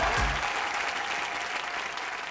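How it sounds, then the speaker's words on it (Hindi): Loud audience applause on a Hindi entertainment TV show, a dense, continuous wash of clapping that fills the whole moment, with a brief low thump at the start. "जोरदार तालियां होने हरमन बाजी के लिए।"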